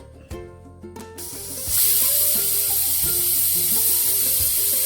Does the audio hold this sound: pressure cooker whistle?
yes